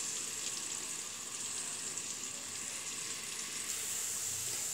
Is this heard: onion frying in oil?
yes